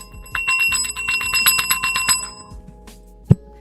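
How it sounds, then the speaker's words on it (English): A bell struck repeatedly in rapid succession, bright ringing strikes for about two seconds, then a pause and a single sharp knock near the end, with no voices. "Let me hit that bell."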